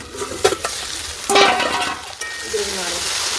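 Potatoes and cauliflower stir-frying in a pan, with bursts of sizzling and clinking spatula scrapes against the metal, a louder hiss around the middle and fainter frying continuing after.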